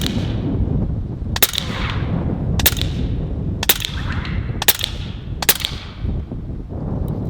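A .30 caliber Western Sidewinder air rifle firing slugs outdoors at a range, five sharp, evenly spaced cracks about a second apart, each standing out over steady, loud background rumble.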